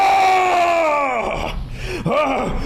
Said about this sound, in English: That scream. I've heard that scream before.